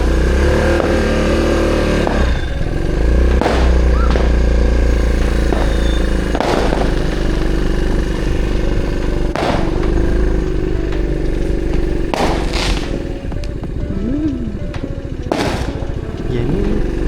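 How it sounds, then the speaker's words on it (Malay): A motorcycle ride through a street on a festive night, steady close engine drone with wind rumble throughout, punctuated by occasional sharp bangs and bursts overhead. "Nak kita nak pergi jalan-jalan naik motor."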